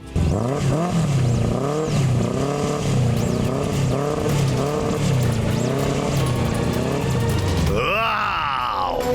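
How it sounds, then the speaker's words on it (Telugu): A cartoon motorbike starts and revs, a loud wavering engine drone rising and falling in rhythmic surges, ending with a sharp upward rev. "బైక్ స్టార్ట్ అయింది."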